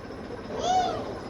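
A cat gives a short single meow, fairly near, over a low background rumble on a village farm.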